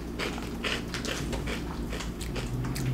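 Close, crunchy biting and chewing of vegan cinnamon toast croutons, with rapid crisp crackles repeating steadily throughout and no talking.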